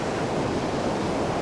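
Broadband rushing of ocean surf breaking near groynes mixed with wind buffeting the microphone, a steady loud wash with no voices.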